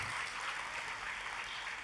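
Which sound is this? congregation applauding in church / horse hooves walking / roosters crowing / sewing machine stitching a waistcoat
congregation applauding in church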